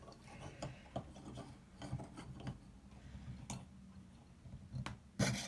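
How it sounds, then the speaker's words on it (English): A jeweller's hand saw cuts a pendant out of metal plate with quick, repeated back-and-forth rasping strokes, close but faint, broken by brief gaps and a sharper knock near the end. "And then I need to cut it out with my saw."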